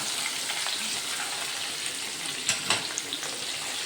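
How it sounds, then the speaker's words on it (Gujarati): Green chillies frying in oil for poha chivda, a steady close broadband sizzle with a few brief clinks of stirring. "ત્રણ મરચાં છે તે પણ આપણે તળી લઈશું"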